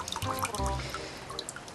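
Worm tea, a brown liquid of worm castings and horse manure, dribbles and drips from a tap into a container, with a short run of splashy trickles and drops close by, fairly quiet.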